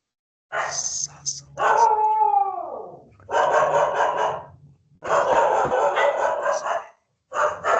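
A dog lets out a long, falling howl among bursts of yelping and barking, close and loud, with short pauses between the outbursts.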